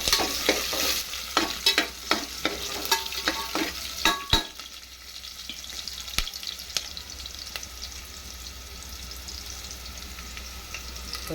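Sliced onions dropped into hot oil for tomato rice, frying with a busy sizzle and sharp stirring clatters early on, then settling into a steady low crackle with occasional scrapes.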